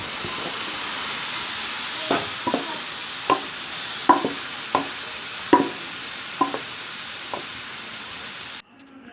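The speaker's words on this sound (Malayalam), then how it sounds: "അപ്പോൾ നമുക്കിത് ചക്കപ്പൾപ്പ് ഇതിലേക്ക് ഒഴിച്ചു കൊടുക്കാം" Jackfruit pulp poured into frying coconut for Kozhikode-style halwa and stirred: a constant soft sizzling hiss punctuated by about ten sharp spoon scrapes and clinks at irregular intervals, ending abruptly.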